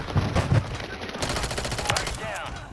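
Rapid automatic gunfire from a Call of Duty match fills the stretch, loud and dense bursts with several players talking over it.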